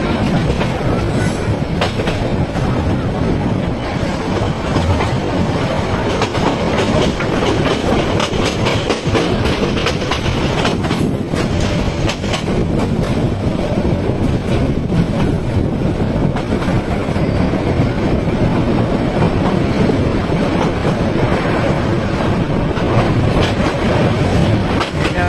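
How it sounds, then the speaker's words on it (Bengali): The Parjatak Express passenger train rushes along the rails from Chittagong to Cox's Bazar, producing a loud, unbroken roar of wheels with steady clickety-clack and occasional faint squeals, close and continuous for the whole stretch. "পতাকা দেখে দিল, মানে ট্রেন এখন ছুটে চলবে।"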